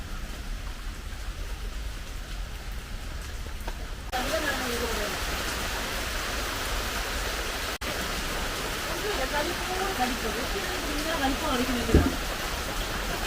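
Heavy rain pours down steadily outdoors in a Kerala setting, a dense even hiss that thickens after the first few seconds, with scattered drip and splash detail and a brief thump near the end.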